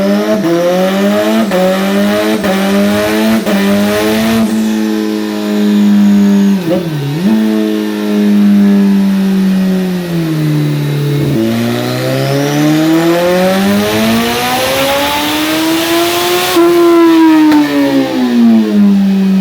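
Kawasaki ZX-14R motorcycle with a stage 1 turbo kit revs hard and loud through a continuous run, engine pitch climbing and dipping through several rises, with a sharp drop near the middle before winding up strongly again toward the end.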